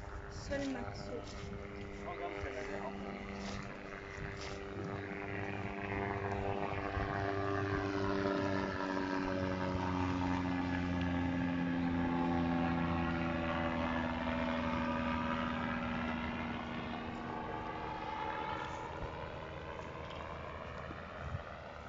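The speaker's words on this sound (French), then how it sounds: "Non, mais là, c'est l'avion." Propeller airplane passing over open water near boats, its droning engine tone slowly shifting in pitch as it rises and fades across the whole stretch, with people talking intermittently underneath.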